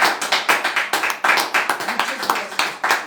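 A church congregation claps for the Lord in quick, rhythmic bursts, loud and near, the sharp hand strikes repeating steadily for a few seconds with no voices over them.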